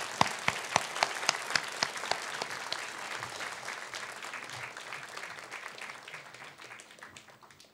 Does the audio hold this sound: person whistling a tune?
no